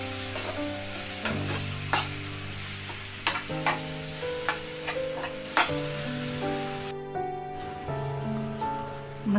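Spices being stirred as they fry in hot oil in a pan for a drumstick vegetable dish, a steady sizzle with repeated scraping strokes of a spoon, close and continuous, with no voices.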